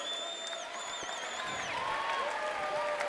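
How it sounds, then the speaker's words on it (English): An audience at Front Street Fights 8, a combat-sports event, applauds fighter Matt Goff from Klamath Falls, Oregon: steady clapping and crowd noise with a few whistles, continuous for a few seconds. "how about a nice round of applause for our guy, Matt Goff"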